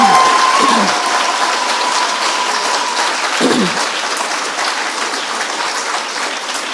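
An audience applauds in a room at an Earth Day talk: a dense, loud, sustained clapping that fades slightly toward the end, with no speech.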